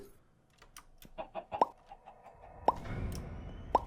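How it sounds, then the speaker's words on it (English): Minecraft chickens cluck softly somewhere out of sight, their faint calls scattered among sharp plopping and clicking game sounds. "I just logged in, as you saw, and I hear chickens."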